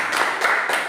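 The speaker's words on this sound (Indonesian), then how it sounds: "tepuk tangan dulu untuk" Applause from a classroom group during an Islamic religious education teaching practice session, a steady burst of hand clapping lasting about a second with no talk over it.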